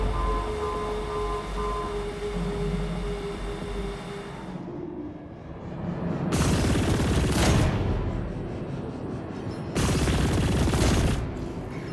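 Sci-fi gunfire in the Chorus space combat video game, two heavy sustained bursts of rapid shooting a few seconds apart, loud and close after a lower mechanical hum.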